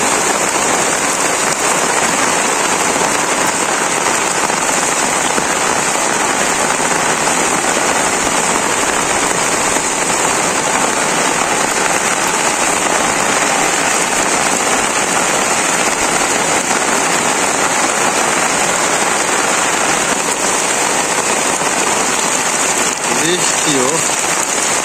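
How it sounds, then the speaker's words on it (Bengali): Heavy rain pours steadily on a village home, a dense, loud, unbroken hiss from start to finish with no pauses and no voices. "বৃষ্টি, ভালো রকম বৃষ্টি"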